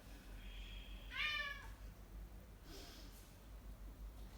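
A cat gives one clear, fairly loud meow in the middle of a quiet room, with a fainter, shorter sound trailing after it.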